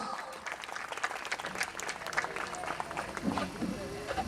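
An audience at a school annual social gathering applauds a Padma Shri cricketer, a right-arm spin bowler, with steady, dense clapping and scattered cheers filling the hall throughout.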